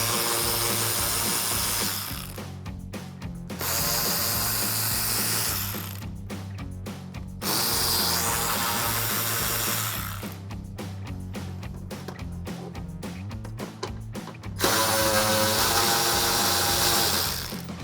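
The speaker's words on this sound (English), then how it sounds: "take my 10mm socket on my ratchet and remove those" Ratchet with a 10mm socket working headlight bolts loose on a 2005-2009 Ford Mustang, several bursts of rapid clicking in quick runs separated by brief pauses, close and fairly loud with no talking.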